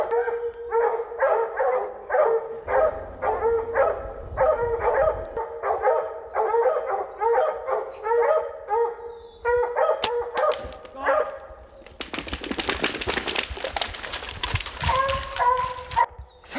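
A pack of hunting dogs bays and barks in repeated rhythmic bursts after a treed cougar in British Columbia, loud and close, with yips and howls mixing in and a rougher burst of commotion near the end.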